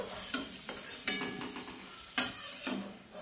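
Sliced potatoes are stirred and fried in hot oil in a pan for a Bengali chicken curry with potatoes. Soft sizzling runs under sharp, irregular scrapes and clinks of the spatula, with two louder strikes against the pan.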